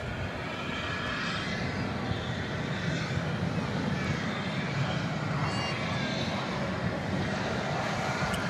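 Airbus A321 on American Flight 2769 from Seattle arriving at DFW Airport after dark, a steady broadband engine roar holding at moderate distance throughout, with a commentator's voice talking over it.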